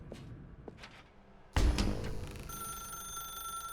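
An old-style telephone bell rings inside The Stanley Parable, with a bright sustained ringing tone entering abruptly partway through, loud and alone after a quieter stretch of faint ambience.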